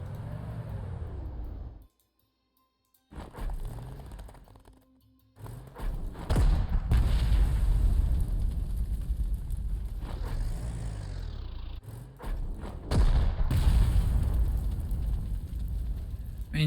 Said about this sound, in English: maybe we can suppress this one with our artillery